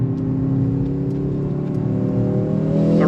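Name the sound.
Mercedes-AMG C63 S E sedan accelerating, engine revving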